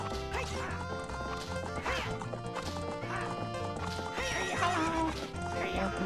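A horse in the video game Ocarina of Time whinnies repeatedly over steady game music and hoof clip-clops, with people talking over the game audio.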